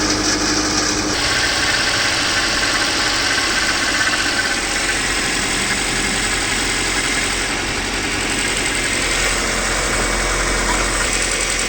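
A car engine idles steadily and loudly right after an oil change, a constant close drone with a slight mechanical rattle running the whole time, with no voices.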